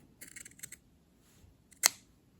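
Scissors snip through quilt fabric in a quiet room, a quick run of small cuts followed by one sharp, louder closing snip, with no talking.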